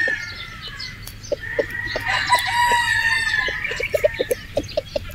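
A Boston Roundhead rooster, a brood stag, crows loudly and close, while sharp short clucks come in a quick series near the end of the crowing.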